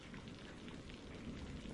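Steady, even rain patters softly and continuously, a faint wash of falling drops with no other sounds.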